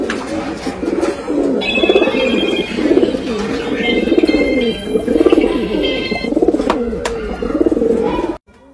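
Rampuri pigeons coo in a steady, overlapping chorus close by, repeated rolling calls filling nearly nine seconds before cutting off abruptly at the end.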